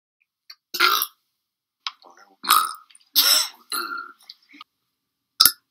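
A series of loud, abrupt burps, about five or six separated by short silences, close to the microphone and heard alone.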